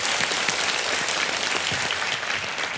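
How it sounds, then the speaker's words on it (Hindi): A television quiz show studio audience applauds a contestant, with dense, even clapping filling the room at a steady level for a few seconds. "तालियां बज जाएं प्रकाश देवी जी के लिए।"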